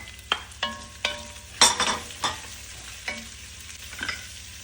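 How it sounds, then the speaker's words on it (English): Onions and curry leaves sauteing in a pan after soft garlic and ginger, with clinking spoon strokes against the pan over a low sizzle and a burst of louder frying near the middle. "so now I'm going to add the onion and the curry leaves"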